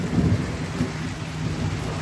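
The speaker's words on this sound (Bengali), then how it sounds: "হঠাৎ করে বড় বৃষ্টি" Sudden heavy rain with a thunderstorm in Albany, New York, falling near a vegetable garden: a dense, steady roar of rainfall with low rumbling thunder underneath, close and continuous, with no voices.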